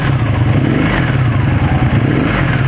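An 1984 Honda V65 Sabre motorcycle engine runs loud and steady up close, a continuous low mechanical roar with a slight rev, no talking over it.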